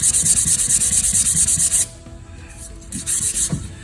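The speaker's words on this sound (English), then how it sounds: "So just take your sandpaper and sand those down." Sandpaper rubbed by hand over a door panel being prepared for upholstery, a fast, steady run of close, loud scratchy strokes that stops partway, leaving quieter handling noise and a few softer rubs.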